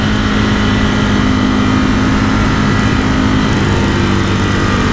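A Ducati Scrambler 1100 Sport motorcycle on Pirelli MT60 dual-purpose tires leans through a corner, its engine a steady, loud, unbroken drone mixed with broadband wind rush for the whole stretch, with no voices.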